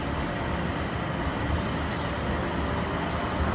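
Airport shuttle train running toward terminal H, a steady broadband rumble and rolling hum close by, continuous for the whole stretch with no voices.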